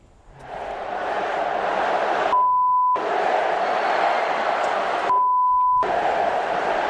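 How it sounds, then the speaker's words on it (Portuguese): A huge Flamengo football crowd fills the Maracanã stadium, roaring and chanting in protest as a loud, continuous wall of sound, broken twice by brief electronic beeps during short dropouts. "Ontem a torcida do Flamengo estava numa revolta muito grande com o Abel"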